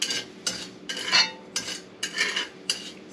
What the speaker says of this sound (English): You got to keep stirring it that it would not stick.